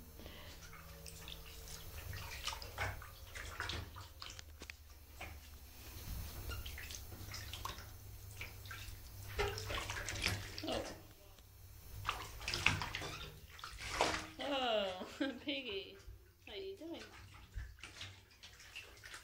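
Water splashes and sloshes in a small tub while a guinea pig is bathed, with soft drips and swishes, quiet and close, and the animal squeaking near the end.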